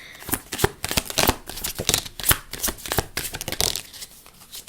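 A deck of playing cards is handled and shuffled, giving a steady run of crisp riffling snaps and flutters close by, with no talking.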